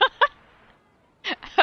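A bird in the video game Genshin Impact calls with short sharp clucking or honking bursts, two quick notes, a pause, then two more, close and distinct.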